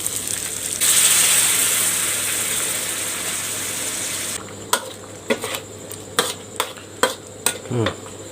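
Minced pork chili paste with tomatoes frying in a pan, a loud broadband sizzle for the first few seconds that fades, followed by a series of sharp spatula scrapes and clanks against the pan.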